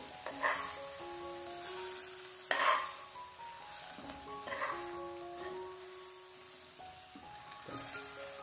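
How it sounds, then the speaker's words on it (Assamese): Taro leaves are stirred and fried in a pan. Quiet, intermittent scraping and stirring strokes come with a soft, low sizzle at a gentle, irregular pace. "এতিয়া আটাইখিনি ভালদৰে লৰাই অলপ দেৰি ভাজিম"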